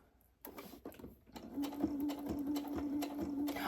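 A sewing machine stitches a square on a Velcro closure for a fabric coffee cup cozy. After a few separate thumps it settles into a steady, close mechanical whir with a rapid needle rhythm.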